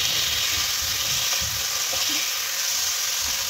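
Chicken pieces fry in a pan with spices, ginger and garlic for a Kolkata-style cutlet, giving a loud, continuous sizzle with occasional soft stirring knocks and no talking.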